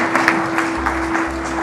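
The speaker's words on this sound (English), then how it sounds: "please give a huge round of applause to Mridula ji" Brief scattered clapping from an audience at a women authors' award ceremony, greeting an honoree, with a steady electrical hum running beneath the claps.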